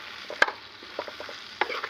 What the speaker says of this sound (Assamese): এতিয়া আটাইখিনি অলপ সময় এনেদৰে ভাজি ল'ম